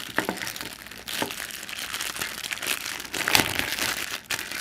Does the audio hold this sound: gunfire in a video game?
no